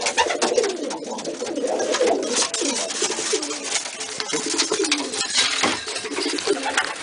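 Roller pigeons in a breeding loft cooing, repeated soft rolling coos close by in a steady series, with light background rustle and no talk.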